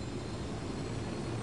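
A plane engine in Ghost Recon Wildlands drones steadily in a dense, continuous roar, alone and fairly quiet.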